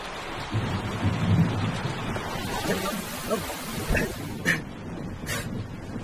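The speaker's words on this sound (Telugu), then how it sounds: "వర్షం భయంకరంగా పడుతుంది." Heavy rain falling steadily in a Telugu film scene, a constant hiss with distant rumbles and a couple of sharp bright crackles toward the end, faint voices murmuring underneath.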